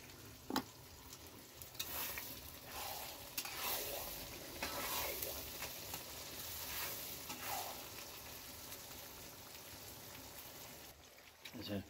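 Akbare chili pickle with salt is stirred in a pan, a soft continuous sizzle with rhythmic scraping and a few knocks of the spoon, fairly faint and close.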